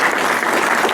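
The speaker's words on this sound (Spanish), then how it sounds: "Fuerte el aplauso para que se despidan sus periodos" An audience claps loudly and densely at a lucha libre wrestling presentation at a book fair, a continuous close wash of many hands with no voices breaking through.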